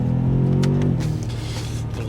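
BMW M5 2021 with 616 brake horsepower pulling hard in sixth gear at around 60 mph, a steady deep engine drone with rising harmonics that settles into a lower rumble, heard from inside the cabin.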